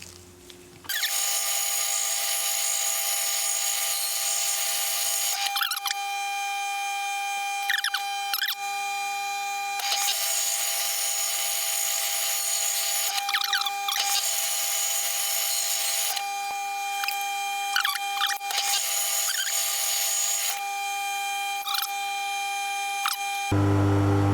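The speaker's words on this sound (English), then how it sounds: "I've got to turn down a boss on this surface." Metal lathe turning down a boss on a vintage rim latch part: a steady high-pitched cutting whine in several long bursts, with short pauses and clicks between passes.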